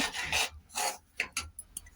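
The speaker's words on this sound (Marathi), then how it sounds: "इथे एक वाटी मी रवा घेतलाय रवा बी आपण याच्यात आता भाजून घेऊया मस्त खमांग" Close, rhythmic scraping as a spatula stirs semolina roasting in ghee around a pan, several quick strokes in a row.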